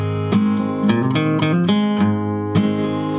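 Acoustic rhythm guitar part, with strummed chords broken up by a quick single-note lead lick, all played close and steady with no voices.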